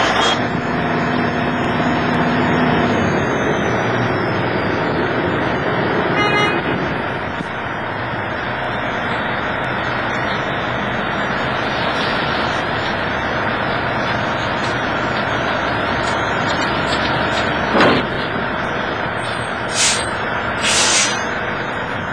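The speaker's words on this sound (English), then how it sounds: "now we've slid our trailer tandems all the way forward" A semi truck reversing in first or low gear to slide its trailer tandems forward gives a loud, steady engine drone throughout, with brief metallic clanks and hisses near the middle and toward the end.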